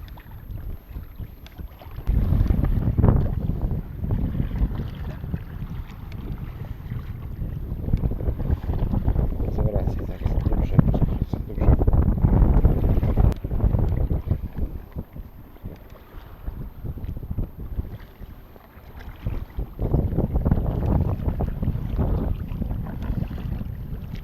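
Wind buffets the microphone while waves slosh and splash around an inflatable kayak, rising and falling in gusts with no voices.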